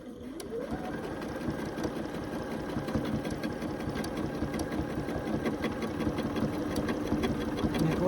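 A sewing machine running a steady straight stitch while couching decorative yarn onto a quilt, giving a close, fast, even mechanical whir and rapid needle chatter throughout, with no talk.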